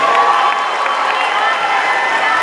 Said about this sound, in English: parents, give yourself a round of applause for raising these wonderful young ladies and gentlemen